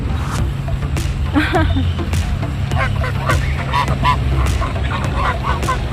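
Several geese honk loudly and repeatedly, close by, with a person talking over the noisy outdoor background.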